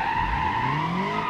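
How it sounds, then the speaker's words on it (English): Ibishu Covet car drifting in BeamNG.drive, a brief burst of engine note and tire squeal with a rising tone, heard alone at moderate volume. "Anyway, how good is it at drifting?"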